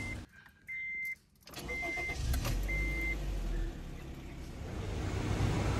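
Honda Brio RS 2023 engine started with a conventional turned key: ignition chimes, a brief cranking whir, then the engine catches and settles into a steady close idle.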